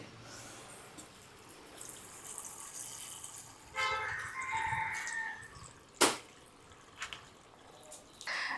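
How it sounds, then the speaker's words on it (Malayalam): Water is poured into a jar of gooseberry pickle, giving a soft gurgling splash that swells midway through. A sharp click follows, then quiet kitchen background with no talking. "പിന്നെ ഏറ്റവും അവസാനം നമ്മൾ ഇതിൻ്റെ പാകത്തിന് വെള്ളം ഒഴിക്കണം"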